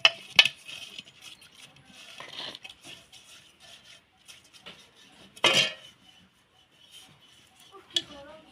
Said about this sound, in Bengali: মালসার গায়ে ভালো করে মাখিয়ে নেব।